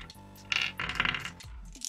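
Small stone ear plugs, 14mm in size, clink and clatter together in a cupped palm with several bright, close, hard clicks in quick succession.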